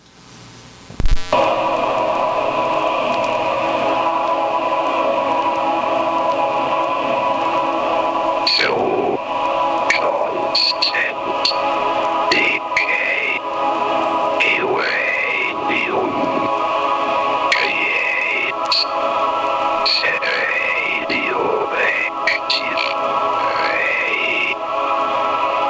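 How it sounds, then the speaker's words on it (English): A Votrax text-to-speech synthesizer from Federal Screw Works, a phonetic keyboard device, produces a steady buzzy synthetic voice with warbling formant glides, continuous and fairly loud over a constant electronic drone throughout. "they developed these text-to-speech devices called the Votrax, and it's kind of like a giant phonetic keyboard"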